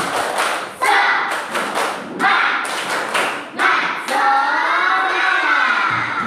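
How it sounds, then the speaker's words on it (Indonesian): A primary school class doing rhythmic spirit clapping, bursts of sharp group claps in a patterned rhythm, close and loud, followed by a sustained chorus of children's voices. "Tepuk semangat."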